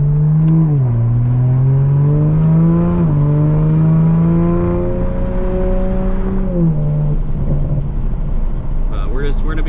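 A 2020 Toyota Supra making over 500 wheel horsepower on new tires drones loudly from inside the cabin, its engine note holding steady then dipping and rising as it cruises, continuous and close.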